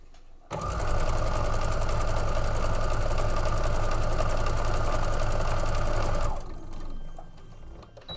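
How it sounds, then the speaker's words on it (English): A sewing machine runs in one steady, loud, continuous burst of rapid stitching for several seconds, then stops abruptly and winds down, close by with no talking. "Get this sewn up real quick."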